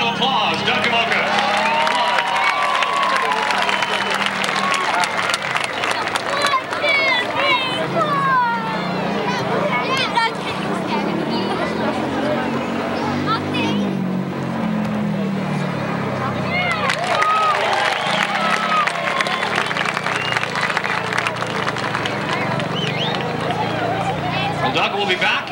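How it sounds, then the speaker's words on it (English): A crowd at an outdoor stunt show applauds for a wheelie stunt rider, with sustained clapping and loud babble and cheering throughout, rising and falling in waves. "Ladies and gentlemen, give a round of applause."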